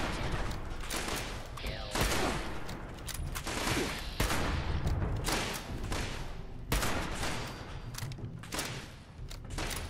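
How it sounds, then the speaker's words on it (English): Gunfire in Fallout 76, with repeated shots and short bursts coming in irregular clusters at moderate distance, mixed with thuds and game noise, no speech over it. "All right, who's shooting at me?"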